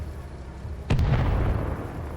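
A mortar shell bursts with one sudden boom in Arma Reforger, a sharp crack followed by a heavy, rumbling roar that lingers for over a second against steady background ambience.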